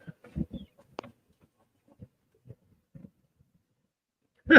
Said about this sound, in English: There's one of the chickens is over here.